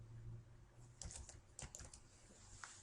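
Someone types on a computer keyboard while renaming an Excel 2016 worksheet. Light keystrokes come in quick clusters, then pause, with a faint steady hum underneath and no voices.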